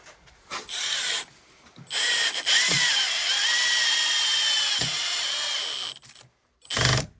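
Power drill driving screws into a metal arm of a kayak, SUP and canoe storage rack, two long whirring runs separated by short pauses, with a brief final burst at the end; close and fairly loud, no talking.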